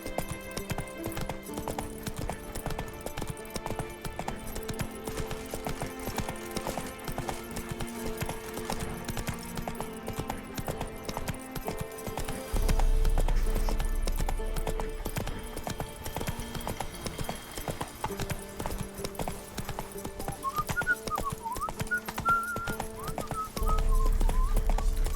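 Horse hooves clip-clop steadily in The Witcher 3, a repeated rhythmic trot over a bed of game music and ambience, with a brief deeper rumble partway through and no talk.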